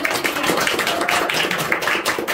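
A classroom of students applauding together during a university microteaching session, a dense, steady patter of many hands clapping at close range for a couple of seconds, with no talking.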